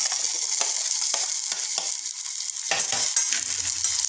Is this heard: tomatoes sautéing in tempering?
yes